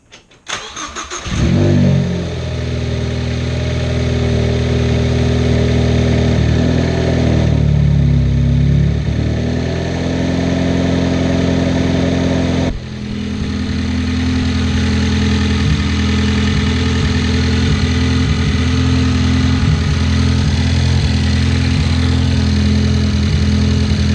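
A car engine cranks and starts after a throttle body spacer install, then settles into a steady, loud idle that runs on alone with a brief dip in the middle and no talking.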